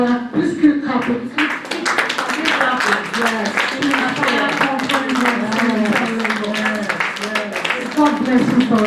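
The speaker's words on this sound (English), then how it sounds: "Please keep clapping." An audience clapping at an award ceremony honoring women leaders at Inspire to Inspire, scattered rhythmic claps running beneath a loud voice speaking over them.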